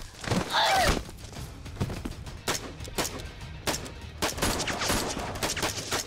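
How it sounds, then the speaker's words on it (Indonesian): Gunfire in a film fight scene, a burst of sharp shots followed by scattered loud bangs and thuds, close and punchy over a busy action soundtrack. "Maria menembak anak buah Caleb yang melindunginya."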